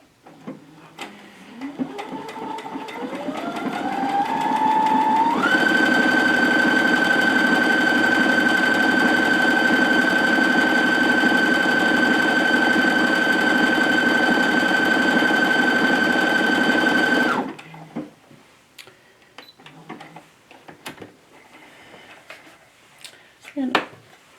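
A sewing machine runs decorative stitch number 38 in one long, steady, loud whirring run with rhythmic mechanical tapping, preceded and followed by quiet handling noises.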